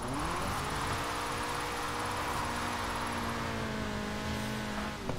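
Steady drone of a low-powered car engine in a racing video game on a damp track, a continuous tonal hum with a slowly rising pitch, held at an even level with no talking.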